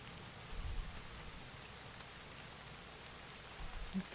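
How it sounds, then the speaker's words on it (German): Rain falls steadily in the game Drizzlepath: Genie, a continuous soft patter with faint low rumbles, even and fairly quiet throughout. "Es hört einfach nicht auf zu regnen."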